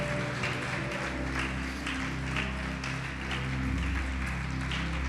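A church congregation applauds during a Portuguese-language sermon, a dense steady wash of many hands clapping together that holds evenly for several seconds over a low, constant hum.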